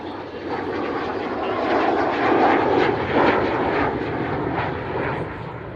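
An Avro Vulcan bomber flies past with a loud, steady broadband roar of jet engines that swells slightly in the middle and stays close and dominant throughout.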